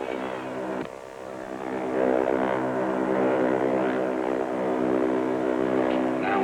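A propeller-driven airplane in flight, its engine droning steadily and swelling slightly louder partway through, close and continuous with no voices.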